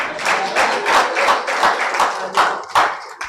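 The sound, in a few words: audience round of applause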